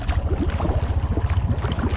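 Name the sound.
Honda Rubicon 520 ATV engine idling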